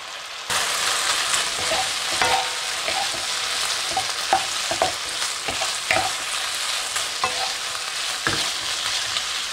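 Chicken for a ginger stir fry fries in a pan with a loud, continuous sizzle broken by repeated scraping and clattering as the pieces are stirred and turned.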